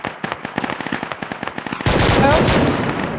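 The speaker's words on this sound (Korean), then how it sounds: "계속 쏴 계속 쏴 멈추지 마 멈추지 마" Rapid bursts of machine gun fire during a military field training exercise: a fast, steady string of close shots, then a louder, denser stretch of sustained fire, with shouting voices mixed in.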